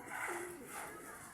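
A racing pigeon arriving back at its loft gives a soft, faint coo, a short throaty rolling call heard at low level against quiet background noise.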